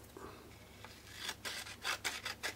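Frets on a 1966 Fender Stratocaster are sanded with 1000 grit sandpaper, a series of faint, close, short scratchy rubbing strokes that grow more regular toward the end.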